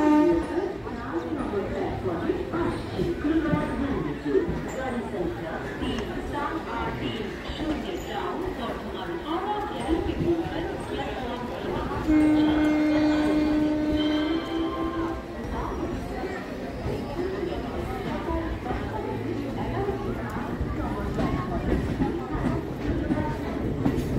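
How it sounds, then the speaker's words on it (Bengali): The Kathgodam–Howrah Bagh Express, hauled by a WAP-4 locomotive, stands at a busy Naihati station platform with a steady rumble and a brief horn blast midway, under continuous crowd chatter and talk. "দাঁড়িয়ে আছে 130-20 কাঠগোদাম হাওড়া বাগ এক্সপ্রেস।"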